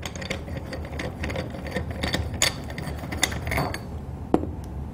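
A Dixon HB coupling expander is taken apart, separating the punch from a 1-inch fitting, with close metallic creaks, scrapes and ratcheting clicks in an uneven run and a sharp click near the end.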